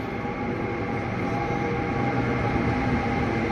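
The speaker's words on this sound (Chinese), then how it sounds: "火车开过来" An old green-painted passenger train rolls into a station on the Loess Plateau near Yulin, making a loud, steady, close rumble that fills the whole stretch.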